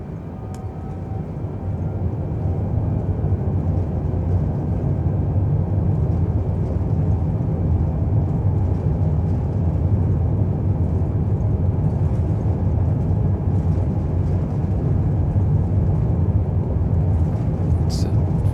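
Boeing 787 Dreamliner engines in Microsoft Flight Simulator spool up for takeoff, a steady, loud, broad roar that swells early on and then holds, with a faint high whine over it.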